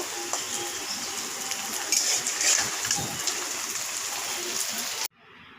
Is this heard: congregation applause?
no